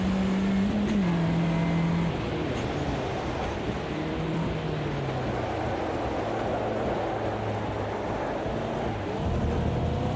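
Ginetta G40 Cup race car engine in the Automobilista 2 racing game, droning steadily and loudly throughout with shifting pitch as revs rise and fall, no talk.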